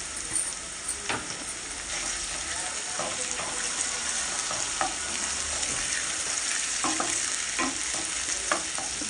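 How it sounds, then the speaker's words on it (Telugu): Minced mutton keema fries with ginger garlic paste in a pan, sizzling in a steady bright hiss while a spoon scrapes and stirs at irregular intervals, faint voices mixed in now and then. "ఆవిడకి కైమా వండుతున్నాను. అలాగే అల్లం వెల్లుల్లి పేస్ట్ కూడా వేసాను."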